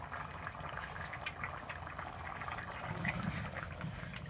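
Fish curry with rui fish and taro poured from the cooking pot into a bowl of ground cumin and ginger paste, making a steady, soft liquid splash and bubbling that runs unbroken for a few seconds at low volume.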